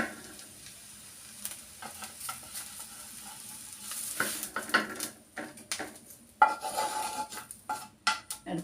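An egg omelette made with milk frying in a pan, heard as a soft steady sizzle broken by scraping, clinking pan and utensil knocks that grow busier and louder toward the end, with no talking.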